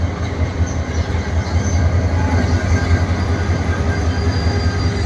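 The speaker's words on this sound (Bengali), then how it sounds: "কমলাপুর থেকে ট্রেন যখন আসে স্লোলিভাবে আসে, এখানে দাঁড়ায়।" A train from Kamalapur pulls slowly into Airport railway station, a continuous low rumble of wheels and engine heard from an overhead bridge, steady and fairly loud without distinct clatter.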